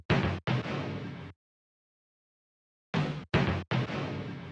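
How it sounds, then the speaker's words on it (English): A sliced hip hop drum fill built from a sampled snare, with fades and a transposition that drops over time: two short bursts of choppy hits, a silent gap, then three more sliced hits, close and alone. "And I decreased the transposition over time, so we get a drum fill that sounds like this."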